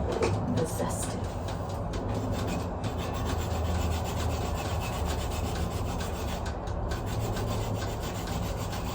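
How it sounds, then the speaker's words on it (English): A lemon being zested on a grater, a rapid, continuous rasping scrape close up, with faint background noise and occasional light clicks. "I'm gonna zest this lemon"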